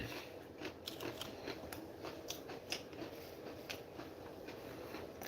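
Someone eats hummus close to the microphone, giving quiet, irregular wet chewing and crackling mouth sounds over a soft steady background, with no talking.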